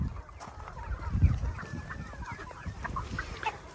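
Several desi hens on a farm, let out to range free, cluck and chatter close by, their short calls overlapping in an irregular stream, with a brief low thump early on.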